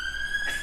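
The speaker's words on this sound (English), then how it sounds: "and that's the siren" Siren sound effect on a local radio show, a steady high electronic tone that swells briefly near the end, heard alone at moderate volume.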